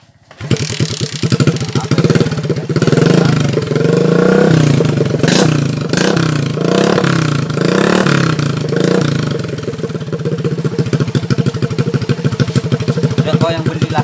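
A Suzuki Shogun R 110 motorcycle engine, overhauled after sitting dead for three years and earlier flooded, starts up and runs with loud clattery revving, then settles into a steady rapid idle; people talk over the engine noise.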